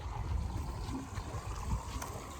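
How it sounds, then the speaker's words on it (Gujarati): Water pours fast into a tank, producing a steady, faint rushing and churning noise with a low rumble, continuous throughout and with no talking. "પાણી આવી ગયું એકદમ ફૂલ ફાસ્ટ પાણી આવે છે"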